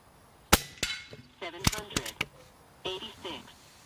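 A Hatsan Nova Star 5.5mm air rifle with a wooden stock fires slugs, giving a sharp crack followed by several clicks and clanks of handling, with a person talking briefly in between.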